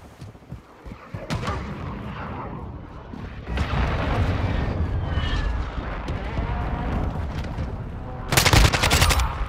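Heavy explosions and gunfire thunder through a Call of Duty: Modern Warfare II match on the Mercado Las Almas map during a friendly airstrike and cruise missile strike. A dense, continuous battle rumble builds to a loud, sharp blast near the end.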